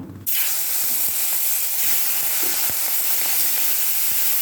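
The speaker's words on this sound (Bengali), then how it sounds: "এইগুলো তুলে বাকি মাছের পিসগুলো ভেজে নেব।" Pieces of rui fish frying in hot oil, a steady loud sizzle that bursts in abruptly and holds without a break, with a few faint clicks and taps from the pan underneath.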